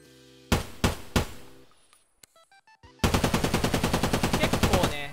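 A newly added gun in the Escape from Tarkov video game fires three single loud shots, a few quiet metallic clicks follow, then a rapid full-auto burst of about fifteen rounds.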